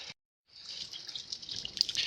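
Hot used coolant water drains from a car engine through the radiator drain cock, a steady close splashing stream that starts after a brief silence and runs on faintly.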